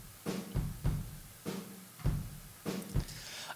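Unprocessed drum room microphone track, a loose groove of kick and snare hits with roomy cymbal wash, about nine hits in an even pattern, moderately quiet, no voices.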